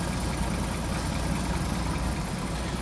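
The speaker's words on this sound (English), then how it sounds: "Nice looking engine bay. Nice smooth running truck." A 1934 Chevrolet DB pickup's roughly 207-cubic-inch engine idles steadily and smoothly, a continuous low rumble close by with no talking over it.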